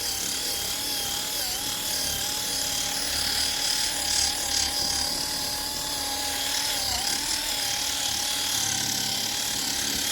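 A battery-powered mini buffer polishes a sanded car headlight on a 12-year-old Equinox, giving a loud, continuous motor whine with steady buffing noise throughout and no break.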